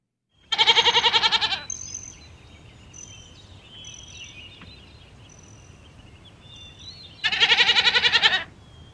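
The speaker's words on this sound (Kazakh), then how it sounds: "ешкі" A goat bleats twice, each call a loud, close, wavering burst of about a second, separated by a long quiet gap filled with faint birdsong and soft background ambience.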